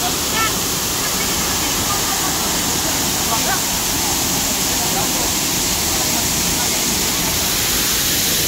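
Continuous roar of rushing forest river water, steady and full like a fast river or small waterfall, with no breaks.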